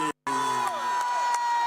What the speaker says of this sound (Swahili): Tuwashangilie kwa makofi Mheshimiwa Rais.